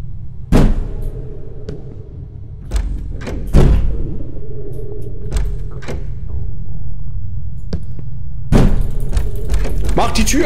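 Someone bangs on a door in the war-trauma video game EXP War Trauma: sharp, heavy thuds arrive in separate bursts, a few isolated knocks and then a final loud cluster, over a low ambient hum.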